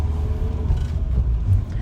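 Inside a car pulling away from a green light, a low engine rumble and road noise build steadily, close and fairly loud, with no talking.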